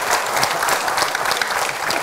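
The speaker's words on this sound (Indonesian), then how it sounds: "Kita berikan tepuk tangan terlebih dahulu." Studio audience applause during a televised political talk show on Islamic preaching and Muhammadiyah: dense, steady clapping that fills the whole two seconds at an even, sustained loudness.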